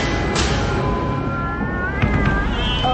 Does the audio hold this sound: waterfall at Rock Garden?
no